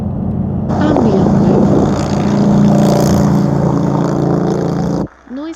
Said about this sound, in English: the motorcycle was the real deal